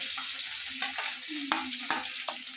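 Green chillies, onion, capsicum, potato and carrot fry in a pan with a constant bright sizzle, while a spoon stirs and clacks against the metal in several quick, irregular strokes.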